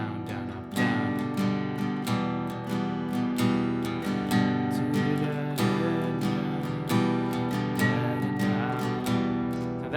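An acoustic guitar strums a song in a steady down, down, up pattern, the full chords ringing close and loud without pause.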